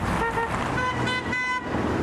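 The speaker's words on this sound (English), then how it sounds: "We get people honking at us of all ages" Car horns toot from passing traffic at a street corner, a few short honks in a row followed by a longer sustained blast, loud and close with steady road noise underneath.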